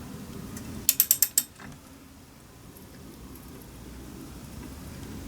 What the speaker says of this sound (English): So let me fit the spark plug, the new one, in. Don't over tighten it.